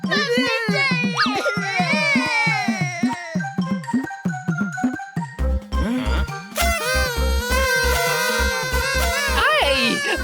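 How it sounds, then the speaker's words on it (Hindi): Cartoon children wailing and sobbing in high, wavering cries, mixed with jingly musical tones and a heavy rhythmic beat joining halfway through, busy and loud throughout. "ये बच्चों के रोने की आवाज कहाँ से आ रही है?"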